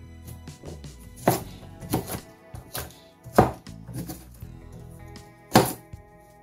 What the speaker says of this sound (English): We are just going to chop the whole of the ginger.